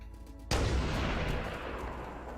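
The Halo: Combat Evolved Anniversary sniper rifle lets off a single loud, deep blast that rolls out into a long fading echo over quiet game ambience.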